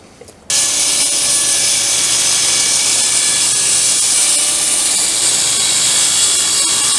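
Power saw cutting a taper along a wooden furniture leg, starting abruptly after a brief quiet moment and then running as a loud, steady, high-pitched whine for the rest of the clip.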